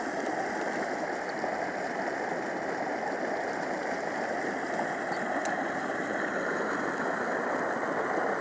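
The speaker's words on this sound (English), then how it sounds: "Got to hear that water rustling over the rocks." A creek runs over rocks in the Cripple Creek, Colorado area, a steady, dense rushing of water that stays close and even for the whole stretch, with no voices.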